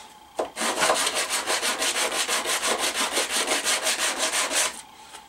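Kydex pouch edges being sanded by hand with 150 grit sandpaper, a steady run of about twenty quick, even back-and-forth rasping strokes, close and clear, with no talking.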